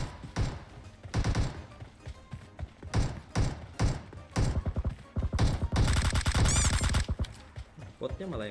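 Rapid bursts of gunfire from PUBG Mobile, with sniper and automatic weapon shots and thuds coming in clustered volleys throughout, loud and close, with a dense sustained barrage near the end.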